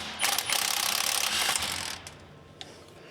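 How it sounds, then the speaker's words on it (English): Wrench ratcheting on a 1953 Mack A40 truck, a rapid burst of clicking pawl sounds up close for about two seconds, then quieter shop ambience with a single faint click. "you can reach up with a wrench"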